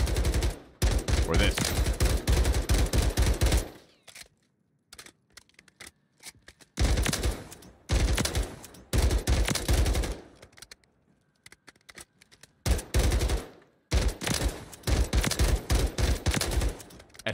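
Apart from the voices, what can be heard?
SVA rifle firing bursts in Warzone video game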